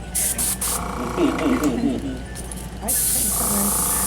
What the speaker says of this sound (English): get behind an airbrush, shake up your paints real quick, and just give it a try